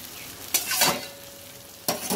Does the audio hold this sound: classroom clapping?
no